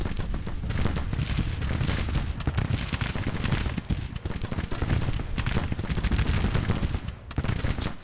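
Dense, continuous gunfire and volleys from a Civil War battle video game, loud and sustained with overlapping rattling shots and booms throughout, no speech.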